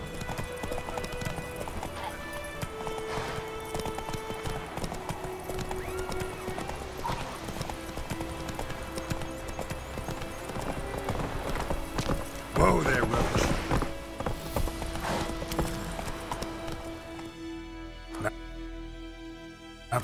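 Roach the horse gallops in The Witcher 3, a steady run of hoof clip-clops under game music and ambience, with a brief whinny, voices speaking at times and a clatter near the end.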